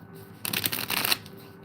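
An oracle-size card deck is shuffled and a card drawn, a quick close riffle of papery flutters lasting under a second.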